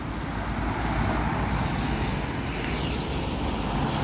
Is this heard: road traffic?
yes